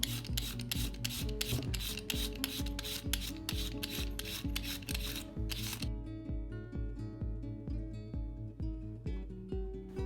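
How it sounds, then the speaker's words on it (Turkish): A vegetable peeler shreds a head of red cabbage in fast, evenly spaced rasping strokes for about six seconds. The strokes then fade under a steady tonal background. "birçok yerde kullanılan şu sebze soyacağı ile ve mor lahana salatamızı hazırlayabiliriz"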